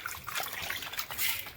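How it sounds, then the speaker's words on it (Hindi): Water from freshly washed grain draining through a sieve, a steady close trickle and patter of runoff lasting under two seconds with no talking. "अभी से छलनी में निकाल लेंगे, पानी नीचे निकल जाएगा, अनाज ऊपर ही रह जाएगा"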